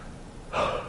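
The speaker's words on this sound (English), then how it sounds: "See how I'm yawning?" After a quiet moment, a single breathy, drawn-out yawn swells up loudly and close.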